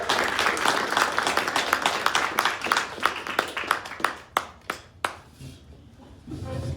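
Audience applause following a poetry reading at a casual evening event, a steady wash of many hands clapping that thins into scattered individual claps before fading out.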